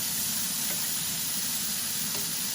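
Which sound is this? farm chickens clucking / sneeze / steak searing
steak searing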